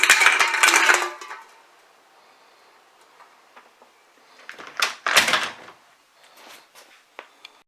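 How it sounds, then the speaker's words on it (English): A pyramid of cans clatters down as an opening door knocks it over, giving a loud burst of metallic rattling, then quieter scattered knocks and a second tumbling clatter with a few single clinks after. "when the door opens, knocks them down, and then makes a noise and you hear someone coming"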